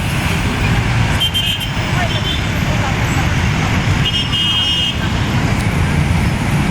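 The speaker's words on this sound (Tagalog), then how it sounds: "sobrang dami naman sasakyan" Heavy road traffic flows past in a steady, dense roar of many cars, buses and trucks, with short horn toots sounding now and then amid the constant rumble.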